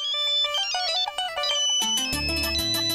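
A phone ringtone for an incoming call plays as a bright electronic melody of quick chiming notes, then shifts into a fuller, louder musical phrase, with no talk over it.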